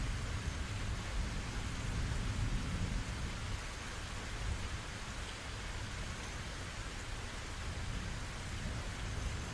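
Steady, dense rainfall hisses evenly throughout while low thunder rumbles heavily through the first few seconds and fades, leaving an unbroken wash of rain with no voices.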